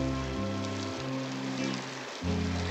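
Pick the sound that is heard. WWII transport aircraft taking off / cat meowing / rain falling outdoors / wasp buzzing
rain falling outdoors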